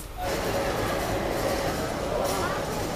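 The 13019 Bagh Express rolls along with a steady, loud rumble and rattle heard from inside a carriage, continuous throughout, with voices faintly beneath.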